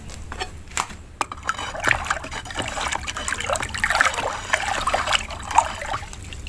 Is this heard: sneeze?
no